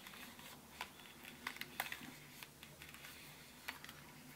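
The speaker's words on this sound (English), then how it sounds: "You can hear it, sometimes a bit disheartening, we're hearing the crunching, but rewind it." Crunching and clicking of a 35mm film camera's rewind wheel winding film back into the canister, with faint irregular clicks and soft grinding over a quiet background, close and alone.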